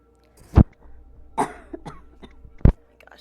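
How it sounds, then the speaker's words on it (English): Several dry, isolated coughs from one person, close and fairly loud, spaced irregularly with a little throat-clearing quality and quiet background between them. "Gosh, the cough, the cough."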